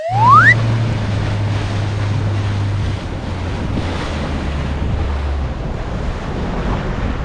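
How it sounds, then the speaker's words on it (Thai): Strong ocean waves and gusting wind around a small fishing boat out at sea, a loud continuous wash of surf and wind buffeting, with a low engine drone beneath for the first few seconds and no talking. "วันนี้คลื่นแรงมาก"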